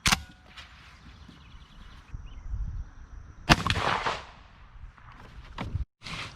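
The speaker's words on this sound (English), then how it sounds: "We're going to shoot them both at 40 yards." A Beretta A400 Xtreme Plus shotgun fires at 40 yards outdoors, with a sharp loud blast whose rumble fades away, plus softer handling noises.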